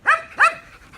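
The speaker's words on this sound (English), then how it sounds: "This is why we call her the police, because she barks all the time." Two sharp barks from a pet dog indoors, close and loud, spaced about a third of a second apart, followed by a faint trailing yip.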